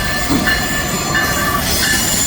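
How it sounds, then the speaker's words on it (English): A Metro Electric commuter train pulls into a station platform, loud and close, with sustained high-pitched wheel squeal over a steady rolling rumble, no voices. "Pulling into 11th Street Museum campus at about 10:25 a.m. is this Metro Electric train bound for University Park."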